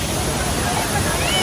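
Water rushes with force along a river on a Kerala ride, a dense steady roar that fills the whole moment without pause.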